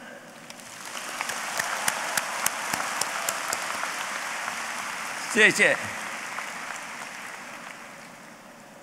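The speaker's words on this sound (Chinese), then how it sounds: "我们一起鼓掌" An audience applauds at the 2015 Shantou University commencement ceremony, with steady, dense clapping that fills the hall and a brief voice speaking near the end.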